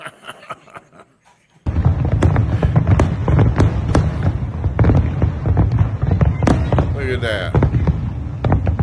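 Fireworks display with a rapid barrage of loud, sharp bangs and crackles following a quiet start, dense and continuous at middle distance, while a person speaks briefly over it.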